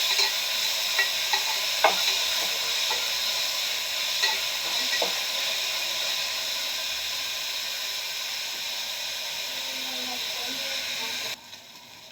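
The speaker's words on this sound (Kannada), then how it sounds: "ಇವಾಗ ಅಲಸಂದೆ ಕಾಳು ಹಾಕೊಂಡು ಚೆನ್ನಾಗಿ ಫ್ರೈ ಮಾಡ್ಕೊಳ್ಳೋಣ." Black-eyed peas fry with onions in a pan, giving off a loud, continuous sizzle and hiss close up, broken by occasional scrapes and taps of the stirring spoon.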